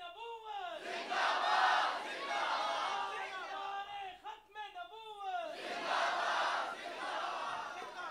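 A crowd at a religious gathering chants a slogan in loud, surging unison, two long swells of massed voices separated by a brief dip, with a lead voice calling between them.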